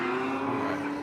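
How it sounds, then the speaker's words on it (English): BMW drift car with an LS engine leaves the start line in a Formula Drift battle, its engine a loud, steady high-revving drone close by with no voices over it. "Katsanidis, the BMW in the chase position, the LS Doctor, as it says on the door. LS Doctor, the Greek Doctor, leaving the start line"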